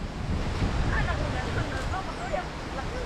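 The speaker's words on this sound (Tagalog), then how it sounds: "Pero malakas yung hangin." Steady gusty wind roars across the microphone with surf-like rushing, while voices talk faintly underneath, outdoors on a farm while picking wild mushrooms.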